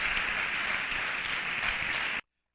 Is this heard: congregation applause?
yes